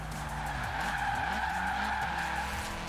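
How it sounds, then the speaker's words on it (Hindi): Tires squeal and skid as a car drifts at full speed in the racing game Forza Horizon 4, a steady, loud sustained screech over a constant engine roar across the whole stretch. "ये भाई क्या ड्रिफ्ट मारी मैंने"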